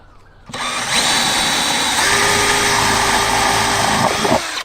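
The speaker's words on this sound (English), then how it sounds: "This time it's a 13mm drill bit." A power drill fitted with a 13mm bit bores a hole, starting abruptly and whining loudly and steadily at close range for about four seconds before stopping.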